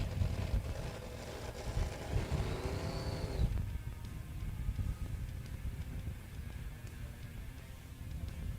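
Pro modified drag racing car on a 5.6 index making a shakedown run, a dense low rumble roaring steadily with wind buffeting, a rising whine near the start, then the engine note dropping off and continuing as a broad rumble.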